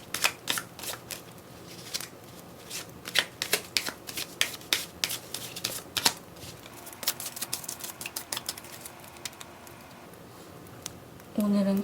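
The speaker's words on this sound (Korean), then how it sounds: "카드를 섞을게요." Tarot cards are shuffled close up in quick irregular bursts of crisp riffling and slapping, pausing briefly between runs, with a soft low hum underneath.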